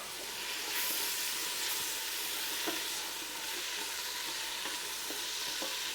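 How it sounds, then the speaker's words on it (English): Vegetables sautéing in a pan, a soft, steady hiss of frying that stays even throughout with a few faint ticks, heard fairly quietly and alone. "We'll let that saute a little bit longer"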